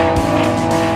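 A race car flies past at speed on the Nürburgring Nordschleife, a loud, close engine roar with tire noise sweeping through in about a second, no voices.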